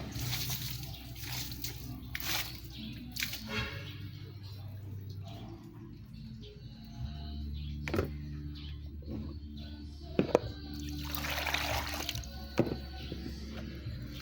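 Running water washes something. The splashing and trickling is quiet and continuous, with occasional small clinks and faint talk in the background.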